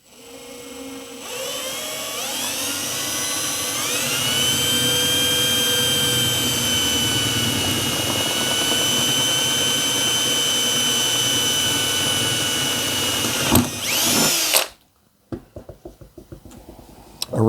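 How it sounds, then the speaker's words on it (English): A 1/8 inch drill bit bores into copper for a stained glass piece, a steady high-pitched motor whine rising as it spins up and holding for about ten seconds, then stopping with a brief clatter. "Then take the 1/8 inch drill bit"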